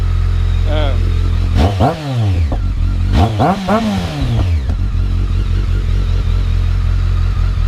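A 2007 BMW K1200S motorcycle idles steadily nearby, then its engine is blipped twice in quick, rising-and-falling revs before settling back to a low idle.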